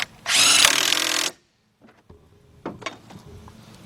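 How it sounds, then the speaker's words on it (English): A power tool drives an 18 mm deep socket on a 1/2 inch drive, tightening the top bolt during a left front hub bearing job on a 2007 Ford Focus. It makes one loud, close whirring burst of about a second, followed by faint scattered clanks. "get your 18 millimeter deep, 1/2 inch drive, tighten up the bolt at the top"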